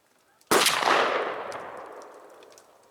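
A single sharp shotgun blast from a Mossberg 835 firing Federal Grand Slam 3-inch #5 turkey loads outdoors, a sudden loud crack followed by a long fading echo.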